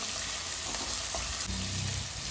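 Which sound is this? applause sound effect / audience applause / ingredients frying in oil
ingredients frying in oil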